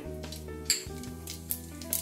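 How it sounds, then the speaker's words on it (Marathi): Mustard seeds crackle faintly in hot oil for tempering a sweet amla pickle. A few sharp clinks from the pan break through the quiet sizzle over two seconds. "तेल गरम झालं आहे, मोहरी घालते थोडी फोडणीला"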